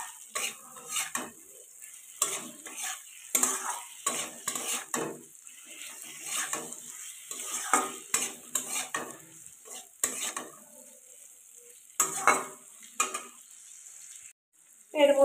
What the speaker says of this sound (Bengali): দিয়ে দিলাম, ভালো করে নাড়াচাড়া করে নিতে হবে।